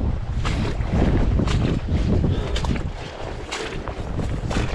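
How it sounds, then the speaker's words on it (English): Strong wind buffets the microphone out on salt water during fly fishing for redfish, a steady loud rushing roar with gusts throughout and no voices. "So it is way windier than yesterday. Got a lot of wind coming."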